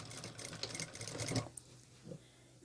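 A sewing machine stitches bias binding onto fabric for a quilted vest, a steady close mechanical whir that runs for over a second and then stops, leaving quiet with a few faint handling sounds.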